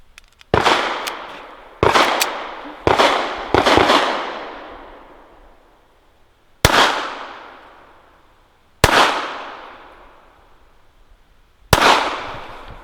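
Walther PPK/S pistol firing Remington Ultimate Defense 102 grain rounds: seven sharp, loud shots at irregular intervals, the first four close together and the rest spaced a few seconds apart, each with a short decaying echo.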